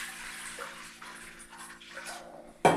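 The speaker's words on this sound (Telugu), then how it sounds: "దీంట్లో వాటర్ వేసుకుంటున్నాను." Water is poured into ground urad dal batter seasoned with pepper, salt and soda, a soft trickling pour that ends in a brief louder splash.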